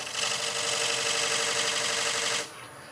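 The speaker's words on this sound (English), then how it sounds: "I'm just going to put a groove in here." A homemade point tool cutting a groove into a spinning mulberry wood bowl on a lathe, a steady close whirring scrape for about two seconds that then abruptly stops.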